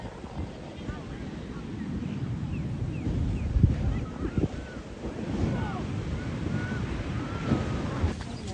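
Ocean waves wash onto a beach on Maui's west coast near Lahaina, a steady surf rush with wind buffeting the microphone and distant voices and calls in the background.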